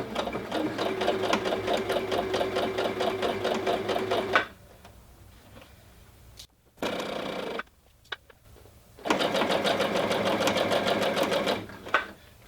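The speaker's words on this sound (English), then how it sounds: "There is actually a speed adjustment on this machine, the Jade 20, so I can select how fast I want the machine to sew." A Jade 20 sewing machine stitching fabric, a fast steady mechanical whirr and needle chatter in two long runs separated by a quieter pause with brief clunks, close and loud, no voice.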